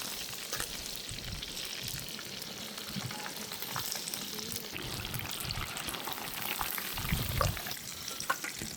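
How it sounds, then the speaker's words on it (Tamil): Chicken 65 pieces with drumstick (moringa) leaves deep frying in hot oil, giving a steady, close crackling sizzle with occasional stirring clatter and louder bursts near the end; no speech. "அதுவும் முருங்கைக்கீரையில் ஒரு 65 பொரிச்சிக்கிட்டே இருக்கும்"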